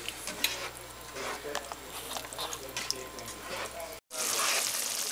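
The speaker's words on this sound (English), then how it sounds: "I'll just stir this up a little bit" Ground beef being stirred in a pan, a steady scraping and sizzling texture that runs continuously, with a brief cut near the end before a louder burst of frying noise.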